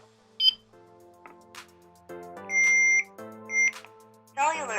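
A Hikvision AX Pro wireless alarm system panel gives several short electronic beeps and tones while arming, loud and close with quiet gaps between them, and a synthetic voice prompt is heard among them.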